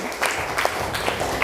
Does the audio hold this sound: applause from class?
yes